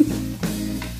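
Shrimp sizzling and frying in a pan while being stirred, a steady close hiss with a brief scrape of the utensil partway through.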